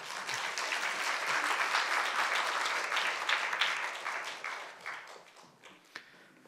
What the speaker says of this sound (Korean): 처음 나오시는 거니까 힘내시라고 우리 박수로 우리 환영할까요?